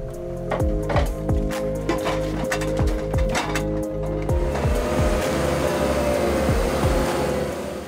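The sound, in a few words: John Deere forestry forwarder machine working in forest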